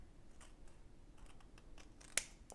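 Scissors trimming a small paper piece for stamp craft, a few soft quiet snips with one sharper cut near the end, close and alone.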